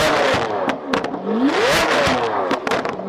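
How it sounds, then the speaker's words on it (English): Lamborghini Aventador with an extreme aftermarket exhaust revving hard up close, loud rising and falling engine wail with sharp crackles and pops between throttle blips. "it's time to hear this Aventador roar. This exhaust is extreme."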